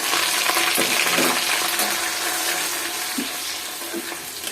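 Sliced onion and a little nutmeg fry in hot oil in a pan, a loud, continuous close-up sizzle with occasional spits and crackles that eases slightly toward the end.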